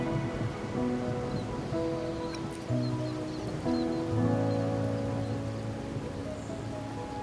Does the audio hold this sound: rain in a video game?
yes